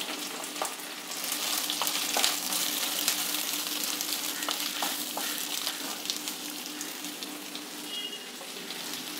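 Three medium onions, cut lengthwise, fry with green chillies in a pan. A close, even crackling sizzle runs throughout with light stirring and scraping touches, no voices.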